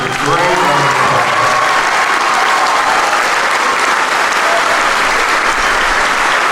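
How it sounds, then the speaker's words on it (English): An audience at a school winter concert applauds the orchestra and band musicians, with steady, dense clapping throughout that stays loud and close from start to finish. "Let's give all these musicians a great round of applause."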